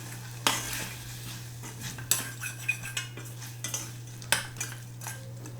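A metal spoon scrapes and clinks against a pot as mutton pulao masala is stirred, the irregular knocks and scrapes close and fairly loud over a steady low hum, with no talking.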